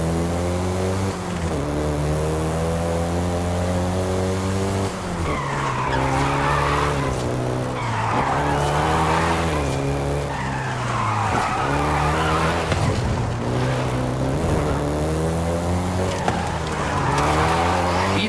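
A VW Golf GTI in Forza Horizon 5 with a steady engine drone and repeated tire skids and squeals, loud and continuous, the engine note rising and falling between bursts of screeching.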